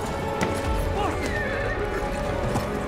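Horse in the video game Battlefield 1 gives a loud whinny over rhythmic clip-clop hoofbeats, with steady game background noise throughout.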